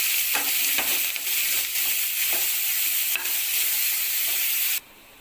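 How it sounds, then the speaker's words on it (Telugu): Chopped onions and green chillies hitting hot oil with frying cumin seeds, a loud, continuous close hiss with brief stirring scrapes, cutting off abruptly near the end. "జీలకర్ర ఫ్రై అయిన తర్వాత మనం కట్ చేసి పెట్టుకున్న ఆనియన్స్ పచ్చిమిర్చి ఇందులోకి వేసేసుకోవాలి"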